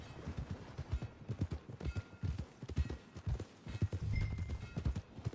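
Horse hooves in Red Dead Redemption 2 clip-clop in a steady walking rhythm, close and clear, with faint background ambience and no talking.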